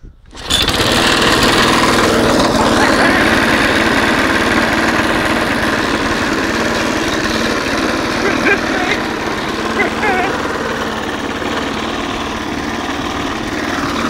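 A lawn mower engine fires up after a brief quiet start and settles into a loud, steady, rough running drone with a slight sag near the end, close by, with someone talking over it.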